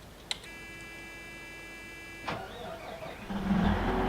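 Holmer Terra Dos harvester in a farming game mod: a steady electronic beeping tone runs for about two seconds, then the engine cranks and catches into a rising, rumbling idle.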